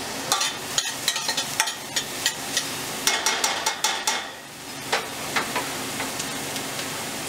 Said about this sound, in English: Now I put the oils in the medium heat. And I'm gonna put the onion,